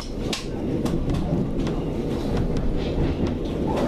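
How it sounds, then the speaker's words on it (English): A Milton Keynes–East Croydon passenger train runs on the adjacent rails in South East London, a loud, steady rumble with rhythmic clickety-clack wheel beats throughout, heard close alongside with no talking. "That's the Milton Keynes train, yes."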